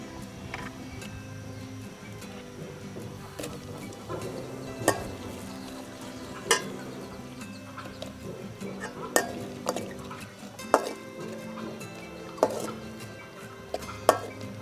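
Onions and chilies frying in a pan with browned ginger garlic paste, a soft sizzle under repeated sharp clinks of a utensil scraping and tapping the pan as the mix is stirred.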